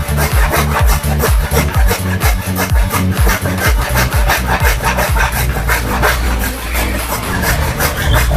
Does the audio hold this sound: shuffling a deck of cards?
no